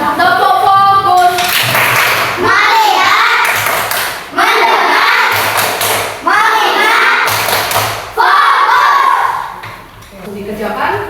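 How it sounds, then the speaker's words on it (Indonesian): A school class performs a rhythmic 'tepuk fokus' focus clap, loud bursts of group clapping and thumps in a chanted pattern, with children's voices and a teacher's speech mixed through it. "Tepuk fokus."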